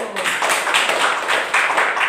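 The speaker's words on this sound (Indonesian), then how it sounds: "tepuk tangan untuk kelompok 1" Classroom clapping for a student group, a short burst of hands from a small class, close and fairly loud with uneven beats.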